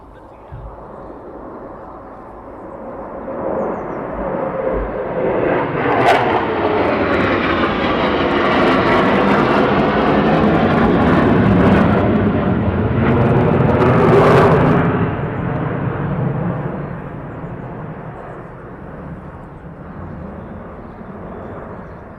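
Military jets pass overhead at RAF Lakenheath as they run in toward runway 24. A loud, broad engine roar swells steadily to a sustained peak, then slowly fades as the aircraft move away.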